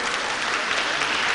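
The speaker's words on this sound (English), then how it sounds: "Give applause to participants also" An audience applauding steadily at a university language and education seminar, a dense, even patter of many hands clapping throughout the brief moment.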